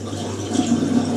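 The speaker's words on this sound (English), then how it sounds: "I've kind of drained all the water from the Hotpoint into it without realising." Water draining out of a Hotpoint washing machine into a Miele washer, a steady low rushing and gurgling flow of moderate loudness with no talking.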